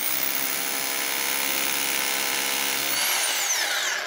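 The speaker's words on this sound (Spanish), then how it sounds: "Vamos a hacer una pequeña prueba de horadado, taladro." A Makita 2475 rotary hammer drills steadily with a loud, continuous mechanical whine, then a brief rising and falling tone near the end.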